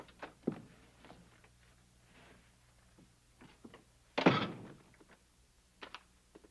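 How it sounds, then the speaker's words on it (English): An old wooden door in a Western town swinging open. A single loud thunk with a creaking scrape stands out midway through, surrounded by faint footsteps and small knocks, with no speech. "The door's open."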